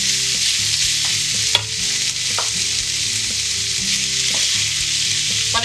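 Beetroot goes into a pan of softened vegetables with a loud, continuous sizzle and frying hiss, a few sharp clinks and stirring scrapes breaking through the steady crackle.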